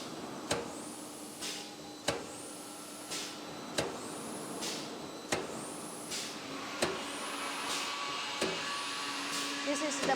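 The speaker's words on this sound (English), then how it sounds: "This is the decoiler with disc brake." Fence post maker machine's decoiler with disc brake running, a steady mechanical hum punctuated by regular clanks and rising whooshing squeals about every one and a half seconds, close and continuous.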